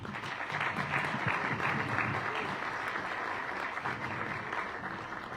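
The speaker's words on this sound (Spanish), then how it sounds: "damos por un fuerte aplauso y una cálida bienvenida al arquitecto Fernando Cordero" A crowd at a public event in Cuenca claps steadily in welcome for an architect and former mayor. The applause is moderately distant and sustained as an even, unbroken patter that holds for several seconds without talk.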